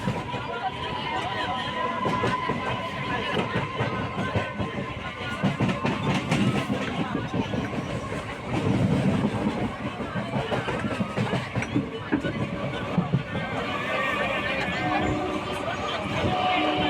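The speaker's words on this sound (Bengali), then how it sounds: "আপনাদের জন্য কিছু লোকাল ট্রেনের মুহূর্ত দেখাচ্ছি" A local train runs toward Sealdah, with a continuous rolling rumble and rhythmic rail clatter under a steady murmur of passengers chatting in the carriage.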